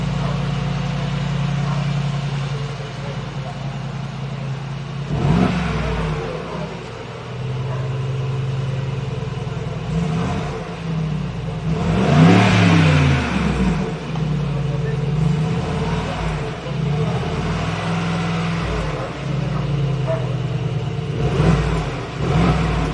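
An armored 2019 car engine runs and revs in several rising bursts, loud and close, with people talking over it throughout.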